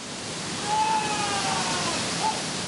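A waterfall pours with a steady, dense roar of rushing water in an outdoor setting, loud and constant throughout, with faint tonal sounds riding over the noise.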